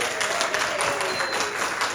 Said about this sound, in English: Let's give them a big round of applause, please.